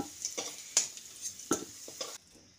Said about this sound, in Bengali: আলুটাকেও এখন লালচে করে ভেজে তুলে নিচ্ছি।